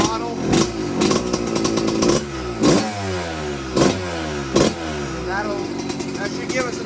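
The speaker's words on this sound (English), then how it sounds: "So I'll let it run like that for a little bit. Just kind of revving it quarter to throttle." A rebuilt Kawasaki KX125 two-stroke dirt bike engine revs repeatedly at about quarter throttle, loud and close, with sharp blips rising and falling in a rough rhythm over a steady buzzing idle.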